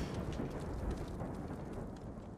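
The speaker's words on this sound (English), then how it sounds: "Oh, is there another thunderstorm coming?" Thunderstorm in the video game Ghost of Tsushima, with heavy rain hissing and a low rolling rumble of thunder, fairly quiet and continuous, with no voices.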